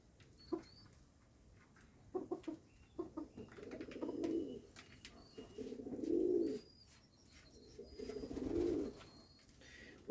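Wood pigeons coo in three deep, rumbling phrases spaced a couple of seconds apart, preceded by a few short soft taps, close and fairly quiet in a rural yard.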